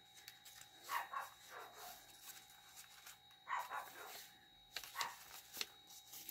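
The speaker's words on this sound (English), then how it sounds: "Sorry about my dogs, guys." A few faint, distant dog barks come in short bursts at irregular intervals over light rustling and shuffling nearby.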